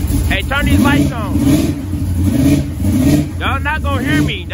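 Close and very loud, the engine of a 1987 Chevrolet Monte Carlo SS on 24-inch wheels rumbles and revs in repeated swells while someone shouts over it.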